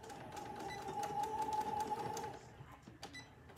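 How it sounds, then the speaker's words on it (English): Sewing machine stitching through fabric for a gathered clutch, a steady fast mechanical whir with a faint tonal hum for about two seconds before stopping, followed by quieter handling clicks. "I'm gonna stop with my needle in that little line, pivot, and sew off the fabric"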